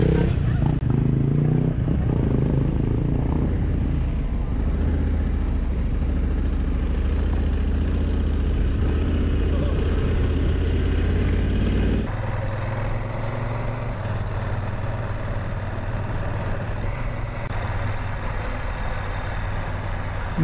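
Motorcycles riding along a country road on a sunny afternoon, a steady close engine drone with wind rush that shifts to a lower, calmer tone partway through, with a voice talking over it.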